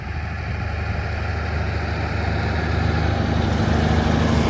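A Lovol 1304 tractor engine runs steadily nearby while cultivating a field at about 13 km/h, a deep, continuous rumble that grows slightly louder, no voices.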